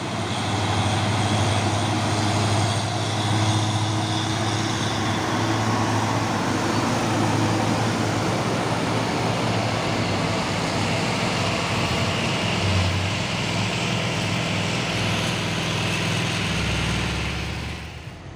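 A Hino 500 truck grinds along close behind on a hill road at Bukit Kodok amid other traffic, a loud steady diesel drone with a deep low rumble that holds throughout and eases off at the very end.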